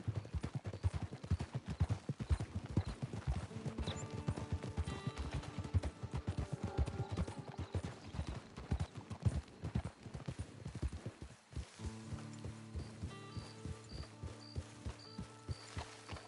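Horse hooves clip-clopping in Red Dead Redemption 2, a brisk, steady rhythm of close hoofbeats running for over ten seconds, then easing as rising tonal music takes over, with light mechanical clicks.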